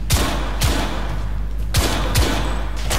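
Short bursts of gunfire from a weapon in the video game The Order, two paired volleys of sharp booming shots separated by a pause, loud and close.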